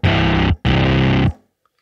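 A thick, fattened distorted synth sound layered over three octaves in Logic Pro X, for Mad Max: Fury Road-style scoring, sounds as two long loud sustained hits with a short gap between them.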